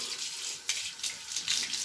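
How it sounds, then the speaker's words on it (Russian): Hot water gushes steadily from a tap into a sink in a home, a continuous broadband hiss with a few brief splashy surges, close and fairly loud. "Сначала открываем горячую воду."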